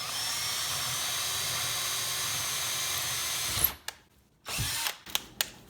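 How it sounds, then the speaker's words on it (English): Power drill boring a hole for a cabinet door knob in wood, a steady whirring grind for several seconds, then stopping, followed by a couple of short bursts. "Center the drill bit in the mark. Apply pressure to the bit to try to imprint it into the wood first, and then just slowly drill."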